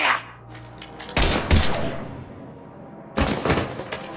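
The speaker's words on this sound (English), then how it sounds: "Now open fire!" Gunfire in the video game Mass Effect 3, with two loud, sharp bursts of shots about two seconds apart, each fading into a ringing tail.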